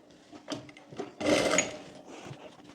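A sewing machine stitches a Sabyasachi-style blouse in short bursts of close mechanical whirring, with a longer run in the middle and quiet pauses between.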